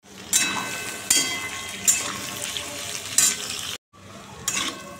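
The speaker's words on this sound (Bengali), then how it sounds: "এখন আলু ভাজাটা বসিয়ে দিই" Potatoes fry in a pan on a home stove, a steady sizzle punctuated by several sharp stirring clanks and one brief cut to silence before the frying resumes, with no talk.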